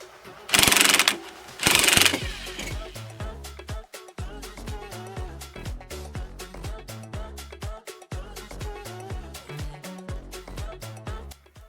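A spring compressor tightens on a Mercedes-Benz W123 front coil spring, giving quick repeated ratcheting clicks in an uneven rhythm, close and fairly loud. Two bursts of a harsher hiss or buzzing tool sound come near the start.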